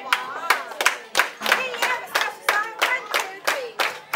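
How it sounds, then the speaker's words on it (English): Rhythmic clapping of hands in steady beats for a birthday at a Disneyland family outing, with voices singing and calling along over the claps. "Let's give them a round of applause."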